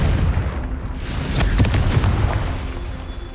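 Confringo fire spell blasting in Hogwarts Legacy, a deep rumbling boom with a few sharp crackling bursts in the middle, loud and close over a constant low roar.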